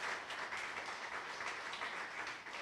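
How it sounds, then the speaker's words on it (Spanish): A church congregation gives a sustained round of applause, the clapping even and continuous with little speech. "Demos un aplauso al Señor por esta palabra"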